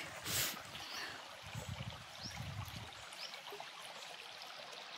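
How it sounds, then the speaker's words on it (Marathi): Water trickles and burbles steadily, like a small stream flowing over rocks in the Shulpani forest along the Narmada, heard nearby and fairly soft with no one speaking. "पाण्याचा आवाज किती शांत येतोय बघा"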